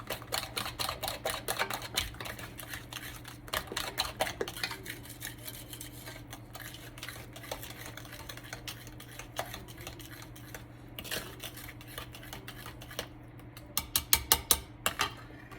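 Anisette cookie ingredients are mixed in a bowl; a utensil clicks and taps against the bowl in quick, irregular runs, with a steady low hum underneath and a burst of sharper taps near the end.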